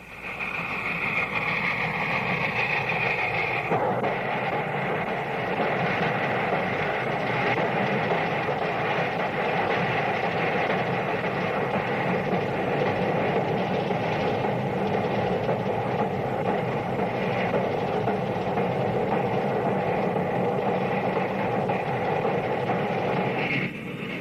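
A Union Pacific Big Boy steam locomotive labours up Sherman Hill in Wyoming with a continuous heavy roaring rumble. A sustained tonal note sounds in the first few seconds.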